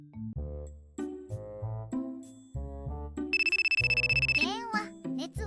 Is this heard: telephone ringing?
yes